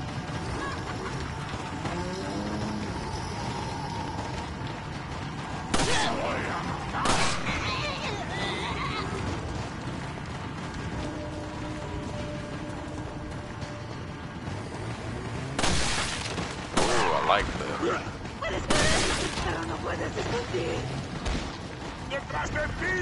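Gunfire in the video game Resident Evil 4, with several loud broadband shots at intervals standing out over a steady bed of game sound, amid speech.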